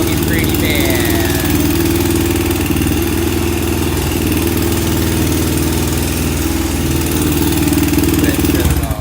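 A warmed-up Honda 400EX ATV engine idles loud and close, a steady rough mechanical thrum that runs continuously without letting up.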